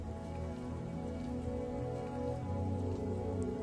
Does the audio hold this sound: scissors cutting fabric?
no